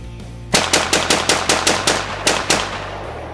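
Gunshots are fired at a target in a rapid string of about ten loud, close, sharp reports at a steady pace, with the last one coming after a slightly longer gap.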